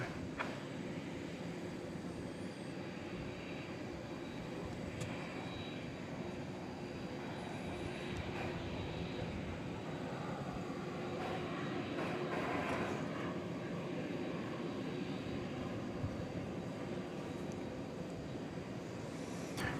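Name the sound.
Qantas heavy jet taking off from DFW runway 18 left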